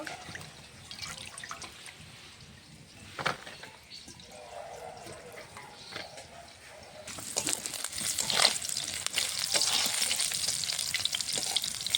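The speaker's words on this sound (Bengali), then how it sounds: "বেশি কড়া করে মাছটা ভাজবো না" Pieces of rohu fish fry in oil in a pan, a low crackle and spatter that swells into a loud, dense sizzle partway through, with occasional drips and clinks.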